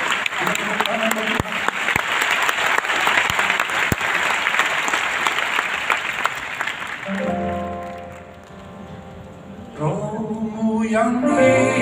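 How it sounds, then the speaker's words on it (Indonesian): Pentecostal church congregation applauding, dense clapping for about seven seconds that then fades as music and singing rise, with a voice heard over it. "Itu lagi tepuk tangan baru."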